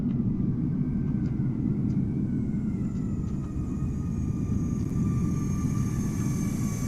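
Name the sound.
arriving aircraft in video game Microsoft Flight Simulator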